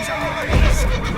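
A horse in the video game The Witcher 3 gives a single brief, close whinny with a snorting, stamping low rumble beneath it.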